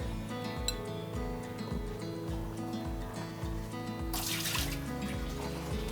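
Strawberries and blueberries lifted out of a soak of water with baking soda and salt, giving soft sloshing, drips and light clinks against a steady background hum, with a brief louder splash near the end.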